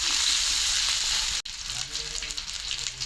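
Onions and oil hissing in a pan with a steady, loud broadband sizzle, briefly cut off around the midpoint and then resuming a little quieter with faint clatter; green chillies are added alongside.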